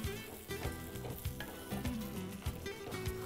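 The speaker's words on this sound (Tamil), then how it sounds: "முட்டையை உடச்சி ஊற்றிட்டு ஒரு பொரியல் மாதிரி பண்ண போகிறோம். இப்போ இதை அப்படியே மிக்ஸ் பண்ணிட்டே வாங்க." Beaten egg sizzles and fries in a kadai while being stirred and scraped, with quiet, steady frying hiss broken by soft, repeated spatula knocks and scrapes, and no talking.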